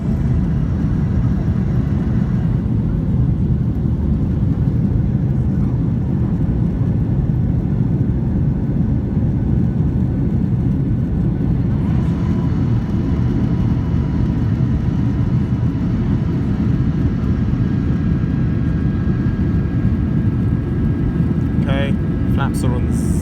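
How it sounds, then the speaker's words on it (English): A Norwegian Boeing 737-8 with winglets climbs out of Stockholm Arlanda with flaps retracting, a steady loud low cabin roar and engine rumble heard from inside, a soft chime near the end, a voice speaking over it. "we took off. Animation Sweden. Flaps are being retracted."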